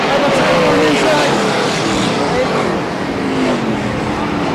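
BriSCA F1 stock cars racing at the 1997 Long Track Championship in Baarlo, with several engines roaring and whining continuously at a steady, loud level beneath an excited commentator's voice.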